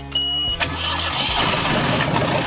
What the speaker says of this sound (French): Le moteur tourne.